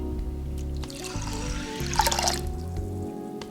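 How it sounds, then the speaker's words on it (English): Water pouring into a heavy-bottomed pot of rice, a steady trickling fill with a brief louder splash near the middle, close by over a low background hum. "Add water"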